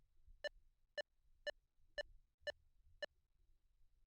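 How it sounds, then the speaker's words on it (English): Six evenly spaced electronic beeps, about half a second apart, sound crisp and moderately faint over a low hum in the Blue Archive video game. "Is something beeping?"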